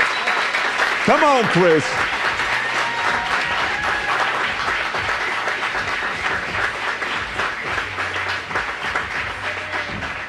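Studio audience on a talk show applauding steadily and loudly throughout, with a brief spoken voice over the clapping near the start.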